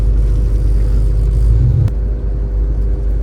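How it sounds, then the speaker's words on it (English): A Ford XT with toe-out drift-spec alignment drives past, its engine a steady loud low rumble with a brief swell near the middle before settling back. "Car is driving"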